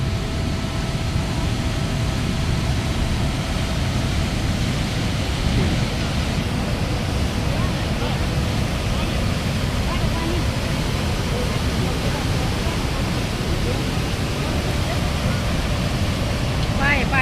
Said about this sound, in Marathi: नर्मदा नदीवरील हे धुवाधार धबधबे